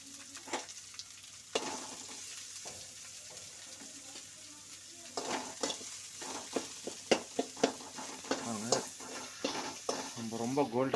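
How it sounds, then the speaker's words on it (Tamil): Chopped onions, about two, go into a hot pan and fry for a road-side style mushroom masala, sizzling softly with intermittent stirring and scraping of a utensil that grows busier toward the end. "கட் பண்ணி வச்சுருக்க வெங்காயம் போடுறோம்"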